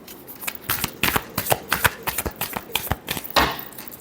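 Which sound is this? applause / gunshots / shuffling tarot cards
shuffling tarot cards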